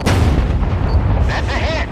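Naval guns boom in the video game Force of Warships, a heavy low rumbling blast that fills the moment, with faint electronic tones and a brief voice beneath.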